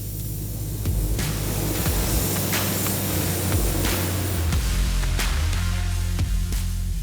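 Spray gun painting the inside of car doors black in an auto body shop, a steady loud hiss of atomized paint running almost throughout, with brief bursts and a low background hum, no talking.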